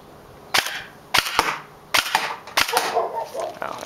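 Several sharp cracking shots from an airsoft AEG rifle fired on semi-auto, about six spaced reports with brief mechanical rattle after each, fairly close and loud.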